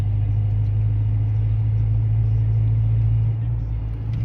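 Inside a moving car, a continuous low road and engine rumble holds at a steady, fairly loud level with no voices, easing slightly near the end.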